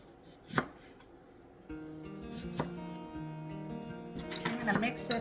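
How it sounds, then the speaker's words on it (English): Onions being sliced thin with a knife for a marinated cucumber tomato salad: several distinct chopping taps on a cutting board, fairly close, with kitchen hum and some background noise between strokes. "Now for the onions, we want to slice these"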